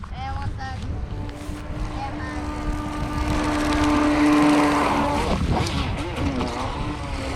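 A Traxxas Blast RC boat runs on a pond, its motor humming steadily with a rising whine mid-clip under wind noise and outdoor ambience.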